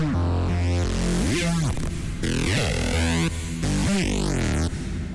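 Synthesized bass from a previous livestream session plays alone, loud and continuous for about five seconds, with thick buzzing tones, swooping pitch bends and shifting filtered textures.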